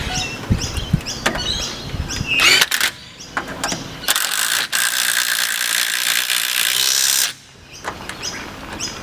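A ratchet tightens a wheel nut on a 1970 Jaguar XJ6, giving loud, close bursts of rapid clicking broken by short pauses.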